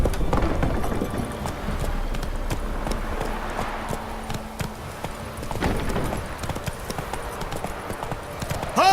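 Roach the horse galloping in The Witcher 3, with a steady, rapid clip-clop of hooves running continuously throughout, close and prominent over a dense game soundscape, with no talking.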